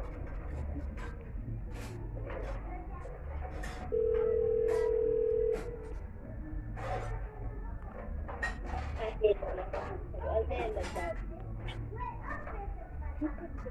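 An outgoing telephone call rings back with one clear, sustained ring tone in the middle, fainter repeats around it, while children's voices and background chatter carry on throughout.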